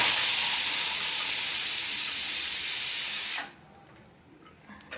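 Garlic hits a hot pan of roasted onion and coconut, giving a loud, bright sizzling hiss that holds for about three seconds and then cuts off sharply into near silence.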